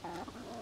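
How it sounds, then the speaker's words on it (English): Hens clucking inside a chicken pen holding about fourteen birds, a steady overlapping mix of close, low cackles and murmurs with no talk over them. "14 hens in here with Short Stack."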